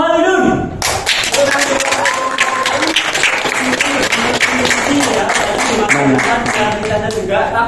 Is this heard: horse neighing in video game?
no